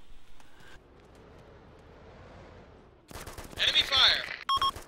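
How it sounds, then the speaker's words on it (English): Enemy gunfire in the video game Arma 2: Operation Arrowhead, heard as a sudden loud burst of rapid shots after a few seconds of quiet ambience, with clicks and tones from the game mixed in. "Enemy fire! Enemy fire!"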